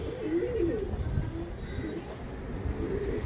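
A rakdar breeding pigeon coos close by in low, rolling, repeated phrases over a soft, steady background.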